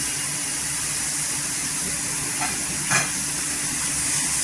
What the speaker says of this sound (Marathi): इथे पहा मी पाणी का तेल काही टाकलेलं नाही, छान अशी भाजून घ्यायची तव्यावर